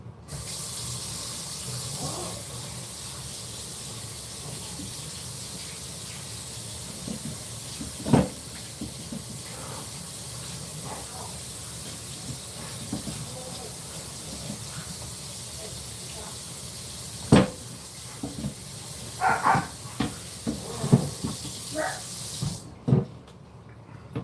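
Tap water runs steadily into a sink while a wooden chopping board is scrubbed clean of raw beef, a continuous hiss with occasional louder splashes and knocks near the end.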